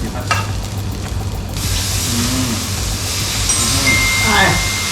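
Braised beef shank being stir-fried with chilli and salt in a pan, with fish sauce added: continuous close sizzling with scraping stirs throughout, and a voice talking over it.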